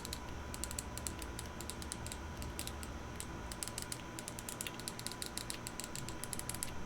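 Clicky aftermarket face buttons on a Steam Deck handheld are pressed repeatedly, giving quick, light, crisp clicks in irregular bursts over a steady background hiss, faint and close.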